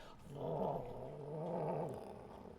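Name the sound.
growling of goblin-like dogs, tabletop game sound effect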